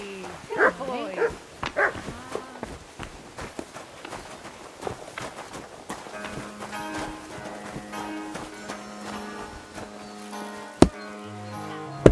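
A dog barking in the medieval game Kingdom Come: Deliverance II, a few sharp barks early on, then footsteps, hoof clops and ambient game sounds, with a voice speaking.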